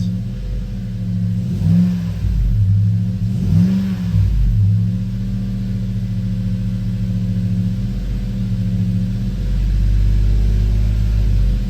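A hot-idling V8 engine in a 4th-generation Toyota 4Runner, just fitted with a Big 7 battery cable upgrade, rumbles steadily up close and rises in two short throttle blips before settling back to idle.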